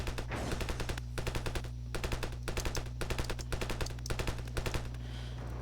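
Rapid automatic gunfire from a first-person military shooter game, sustained bursts of rattling shots repeating steadily over a low droning background, with no talking.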